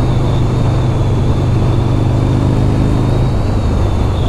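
A 2006 Buell XB12R motorcycle engine runs loud and steady on a test ride, a continuous close, throaty drone with a whirring tone and no break or talk.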